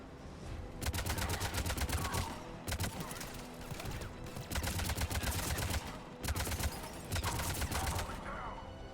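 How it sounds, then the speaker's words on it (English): Sustained rapid gunfire at a checkpoint in Mass Effect 3, loud bursts of automatic fire repeating in several waves with brief gaps between them. "The checkpoint! It's under fire!"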